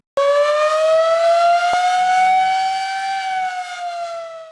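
A loud Ramadan siren wails in a single sustained rising tone rich in harmonics, starting abruptly and holding steady for several seconds before slowly fading, with no voices.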